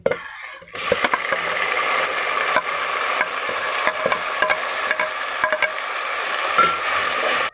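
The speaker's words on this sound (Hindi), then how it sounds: "असांजी थूम हाणे ब्राउन थी। हाणे इनमें असीं टमाटा मिक्स कंदासीं।" Tomatoes being stirred into browned garlic in a pan for a mixed vegetable dish, giving a steady sizzle with scraping spoon strokes and light clinks throughout, after a brief quiet opening.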